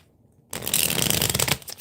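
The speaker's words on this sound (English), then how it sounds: "All right, one more shuffle." A deck of tarot cards is riffle-shuffled up close in one loud, crisp burst of rapid flapping that starts after a brief silence and lasts about a second.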